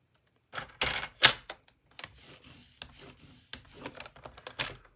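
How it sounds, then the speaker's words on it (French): A paper trimmer (massicot) scoring fold lines into paper for a pull-tab mini album: dry scraping, rasping strokes and small taps, close and moderately loud, with brief pauses between passes. "Donc, je reprends mon massicot."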